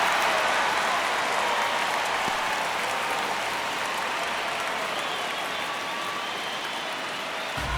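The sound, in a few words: crowd cheering and applauding in MLB The Show video game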